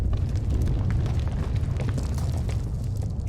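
An explosion in Star Wars: The Old Republic on the planet Makeb sounds as a dense, continuous low roar with crackling debris, loud and steady throughout with no voices.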